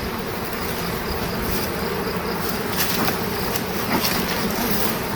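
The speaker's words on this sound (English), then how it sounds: "See how I'm smoking there? Getting the bees moving up." Honey bees swarm over an opened hive in summer as smoke drives them upward, making a dense, steady, loud buzzing drone with faint scattered clicks and no speech.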